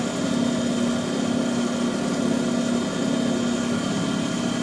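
A motor-driven valve seat grinding head runs steadily on a lathe, a continuous close whine and hum with a faint high ringing tone and no voices.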